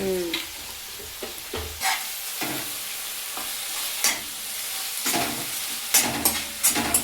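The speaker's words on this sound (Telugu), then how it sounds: "ముందైతే తొందరగా ఉడుకుతుంది ఉల్లిగడ్డ" Chopped onion sizzles and fries in a pan while being stirred for a simple puri curry, with steady frying hiss and repeated scraping stir strokes, close and fairly loud, no talking.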